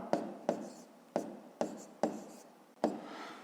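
Repeated scratchy writing strokes as a maths answer is noted down, six distinct bursts with short gaps, close and alone.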